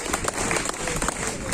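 An audience at a village council gathering in Sundargarh claps continuously, a dense, loud patter of many hands mixed with voices talking.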